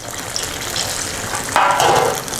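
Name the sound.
banana fritters deep frying in plenty of oil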